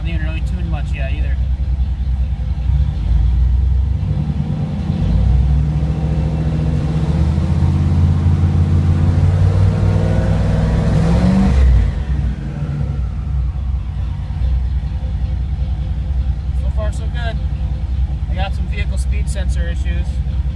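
A car engine tuned on an MS3 MegaSquirt setup with DFI runs with a steady, deep low rumble that swells in the middle before settling back, heard close, with some faint clicks near the end.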